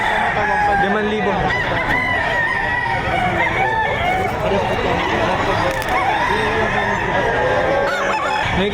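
Roosters and chickens at the Padre Garcia livestock auction market in Batangas, with repeated crowing and clucking from several birds close by and voices talking faintly underneath.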